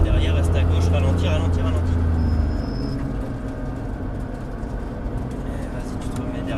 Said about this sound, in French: on va laisser passer la Nissan qui est derrière